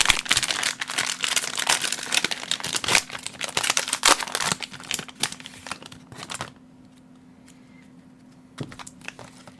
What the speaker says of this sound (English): So let's go ahead and rip these open